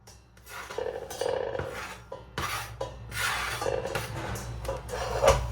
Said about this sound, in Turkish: Şöyle 5 kilo 5 litrelik tencerem var.